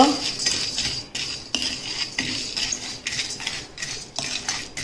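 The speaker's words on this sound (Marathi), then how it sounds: "दालचिनी आता आपण भाजून घेतो आहोत" Whole cloves, cinnamon and cumin dry-roasting in a pan for homemade garam masala, stirred with a metal utensil that scrapes and clinks against the pan in a steady rhythm of about eight strokes, close and clear.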